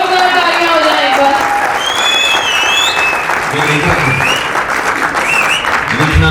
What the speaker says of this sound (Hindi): जोरदार तालियां हो जाए एक बार